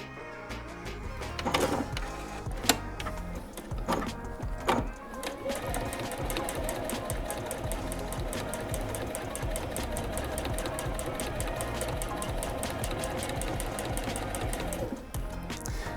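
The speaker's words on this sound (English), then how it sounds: "let's go to the sewing machine and I'll show you how this works." A sewing machine stitches in a steady, fast mechanical rhythm, running continuously after a few scattered clicks and handling noises at the start.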